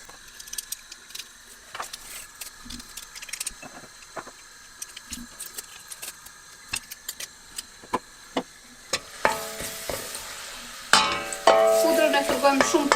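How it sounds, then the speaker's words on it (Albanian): Crushed garlic frying gently in a few spoonfuls of olive oil in a pan for pizza sauce. Scattered soft ticks and stirring give way to a louder, denser sizzle near the end. "Fërgojmë shumë pak."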